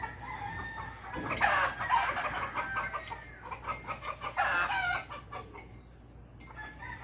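Chickens cluck and squawk close by in bursts, with a rooster crowing amid the flock's noisy chatter.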